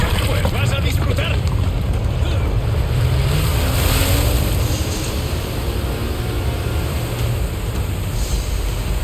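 A motorbike speeds across water in Resident Evil 4 Remake, a loud continuous rush of spray, wind and churning water with an engine drone underneath, steady throughout and easing slightly toward the end.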